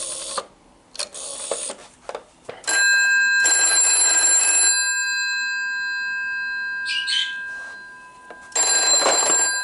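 Black GPO 746 telephone on a PBX, its bell ringing in separate loud metallic bursts with quiet gaps and a lingering ring between them, close by and alone.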